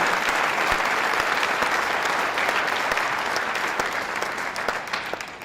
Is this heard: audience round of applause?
yes